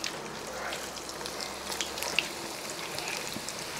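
Finely chopped coconut pieces frying in hot oil for a ginger curry, a steady soft crackle and patter of tiny sizzling pops throughout, close by, with no voice over it.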